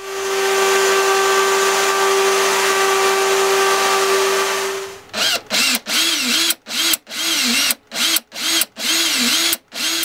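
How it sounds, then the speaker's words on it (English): A router table rounds off the edges of a small wooden plectrum case, its motor whining steadily, then cut by a series of short bites and pauses as the wood is fed past the bit, close and loud. "I'm just going to curve off the edges slightly on my router table."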